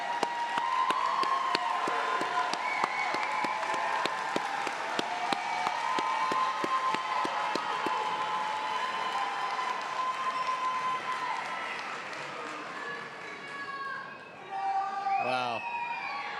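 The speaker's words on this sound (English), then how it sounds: "let's give them one more round of applause" Commencement audience applauding a graduating class, continuous crowd clapping with scattered cheers that gradually thins and fades near the end, with a voice briefly audible late on.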